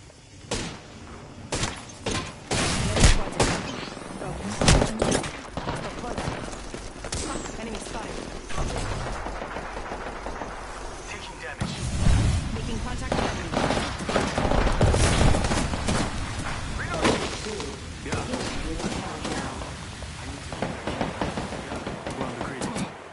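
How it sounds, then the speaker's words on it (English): Rapid bursts of gunfire from an Apex Legends match crackle throughout, dense volleys and sharp cracks with thuds, loud and close, overlapping in sustained firefights. "Getting shot at."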